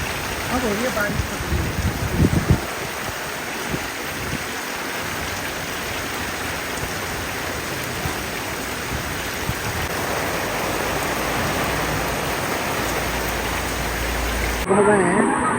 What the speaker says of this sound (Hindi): अब हो रही है बारिश।